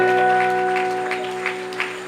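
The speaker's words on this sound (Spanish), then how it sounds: "Fuerte ese aplauso al Señor." A church congregation at an evangelical convention service in Aruba claps in a sustained, dense wash of applause over held musical tones, fading gradually.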